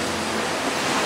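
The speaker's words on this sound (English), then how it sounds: "We're eating dinner with the sound of the ocean in the background." Ocean waves heard from an open-house villa in Bali during dinner, a steady loud wash of surf filling the whole moment without any voices.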